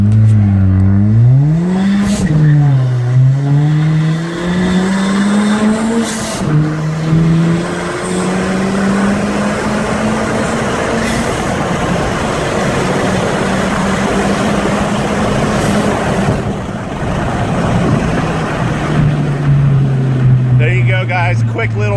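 A turbocharged 2015 Ford Fiesta ST with an ATP 2560 turbo kit, running 22 psi, pulls hard through first, second and third gear. The engine note climbs loudly and drops at each shift, close and continuous.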